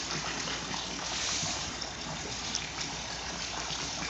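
Water gushes and splashes continuously into an above-ground pool, a steady, fairly loud broadband rush with no pauses and no voices.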